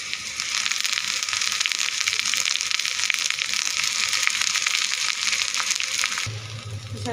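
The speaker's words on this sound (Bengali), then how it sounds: "আমি শাকগুলো তেলের ভিতরে ছেড়ে দেবো।" Bathua greens crackle and sizzle loudly in hot oil, a steady dense frying hiss that runs unbroken for several seconds before dropping to a quieter, lower rumble near the end.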